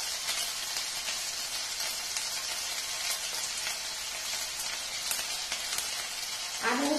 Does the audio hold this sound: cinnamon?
yes